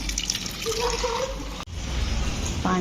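Water pours into a washing machine drum as it fills, a steady rushing flow that continues with a brief break partway through.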